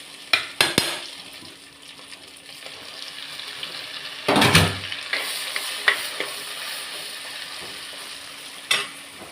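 Chicken fries in a pan, a continuous sizzle broken by a few sharp knocks and one louder burst of stirring as the pieces are moved around.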